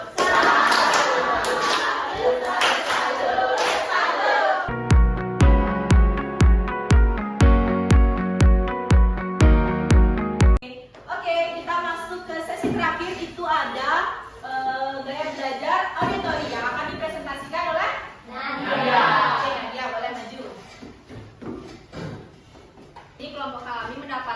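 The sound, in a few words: clapping for Okta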